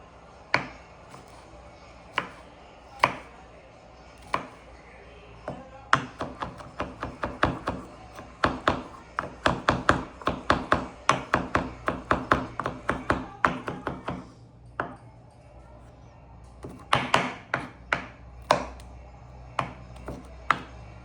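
A knife chops garlic on a cutting board: sparse single knocks at first, then a fast steady run of crisp chops, a pause, and a few more scattered strikes, close and clear with no talk.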